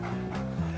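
A dog in the horror adventure video game Deadly Premonition makes a brief, continuous panting or whimpering sound under dense game audio.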